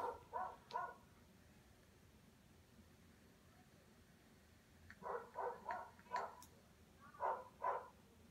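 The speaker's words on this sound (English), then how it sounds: "Both of the dogs now in the neighbor's yard going absolutely apeshit crazy." Dogs barking in a neighbor's yard, heard at a distance: two quick bursts of several barks, a pause, then a longer run of repeated barking, faint and thin against a low background hum.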